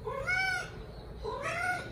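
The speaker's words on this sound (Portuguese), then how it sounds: "Outra gata ali." A cat meows twice nearby, two clear drawn-out cries separated by a short pause, loud and alone.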